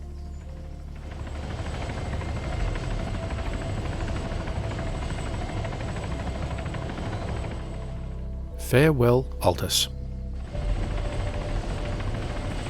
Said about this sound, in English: A new Puma helicopter.